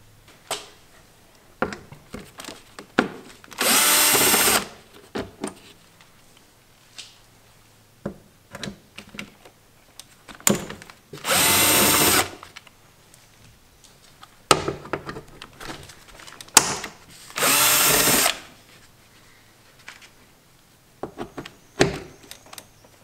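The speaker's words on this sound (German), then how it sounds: "Dafür schrauben wir mit einem T30 Torx die 4 Schrauben ab." Four screws on a VW Golf 5 door panel driven out with a T30 Torx power tool: three sustained loud whirring bursts of a second or so each, separated by clicks and handling noises.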